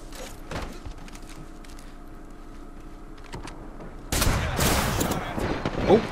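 Gunfire bursts out in the Apex Legends video game, loud rattling shots arriving in the second half after a quieter stretch of low game ambience.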